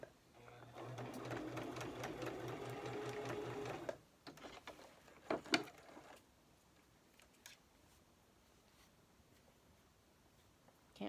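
A sewing machine stitches downward along fabric pleats, a close, steady mechanical whir lasting about four seconds before stopping, followed by a few light handling clicks and rustles.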